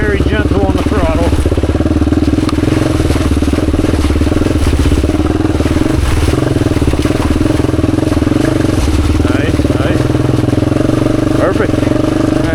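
A Honda XR motorcycle, an XR250 or XR400, picks its way over slippery rocks on a trail loop, its engine a close, steady low chug with light throttle blips and clattering from the rocks throughout.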